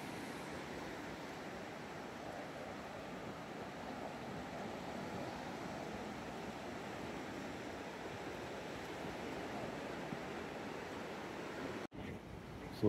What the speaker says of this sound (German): Die Wellen sind total flach.